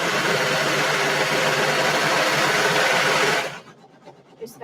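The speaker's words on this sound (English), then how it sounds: "got my serger turned on. Start serging." A serger sewing machine runs at a steady, loud, fast mechanical whir for about three and a half seconds, then cuts off abruptly, leaving faint ticks and small handling noises.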